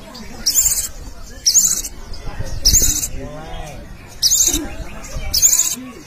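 A sogon songbird sings repeated bright, high chirping phrases in regular bursts over a busy background with some voices and murmur, at a bird singing contest.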